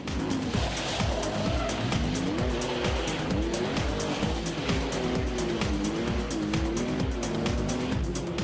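An older Porsche 911 rally car at the Boucles de Spa rally drives hard and close, its engine rasping steadily as gears rise and fall, with tire squeal throughout.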